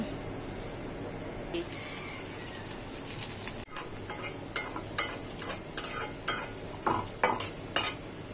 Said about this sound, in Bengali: ভাজি কড়াইটি বসায় দিলাম, পেঁয়াজ দিয়ে দিলাম